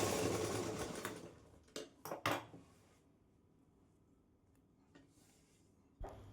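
A sewing machine runs a stitching line along a blouse belt, a steady whirring burst up front, then a few short clacking bursts and faint handling noises in a quiet room.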